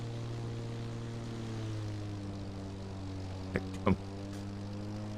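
An airplane engine in The Crew Motorfest racing game drones in a steady, even tone and holds throughout, with a couple of brief sharp clicks near the end.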